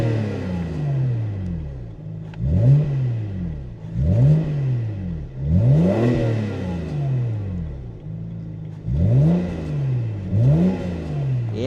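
A 2007 BMW 335i convertible with an N53 engine revs repeatedly, each throttle blip rising and falling in a strong rhythmic pattern of about six close, loud bursts over a steady idle, with no talking.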